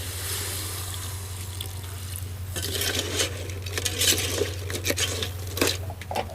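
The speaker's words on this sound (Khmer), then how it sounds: "ហើយយើងដាក់ទឹកចូល" Water splashes and pours into a pot of cooking crab amid clinks of cookware, over a steady low hum, with no talking.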